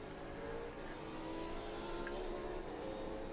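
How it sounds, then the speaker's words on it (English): NASCAR race cars' engines drone on a road course track, a steady distant-sounding mechanical roar with a constant engine tone and no clear pass-by peaks, heard alone without talk. "And the sound of NASCARs, man."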